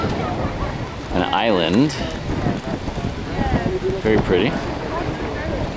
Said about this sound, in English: It's very windy here, as you can hear.